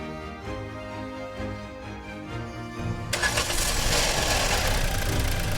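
A car sits quietly for a few seconds, then its engine starts with a sudden surge and settles into a loud, steady idle close by.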